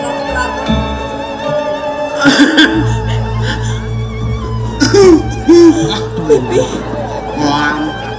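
A person coughs during a Balinese drama gong stage performance, a few harsh bursts over a sustained background drone, with other voices and murmuring around them.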